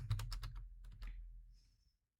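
Rapid keystrokes clatter on a computer keyboard, a quick run of close, crisp taps that thins out and trails off into silence.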